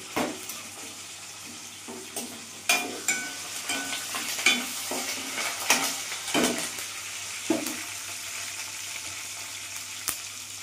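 Spices crackle and sizzle in hot oil, with repeated sharp pops and scraping stirs spread across the clip, close and moderately loud.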